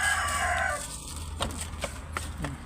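Hybrid and native chickens in a coop during egg collection, giving soft scattered clucks and brief calls over a steady low background hum, fairly quiet and close.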